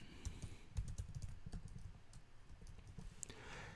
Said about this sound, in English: Just gonna type in the username there, and I'm gonna type in the password.